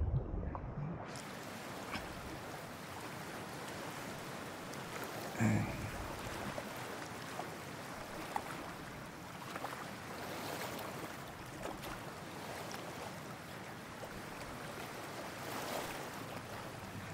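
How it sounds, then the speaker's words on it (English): Steady ocean surf in Cyberpunk 2077 while the player swims in deep water, a continuous broad wash of waves and wind with a brief louder splash around the middle, no speech. "Dude, I'm in the ocean."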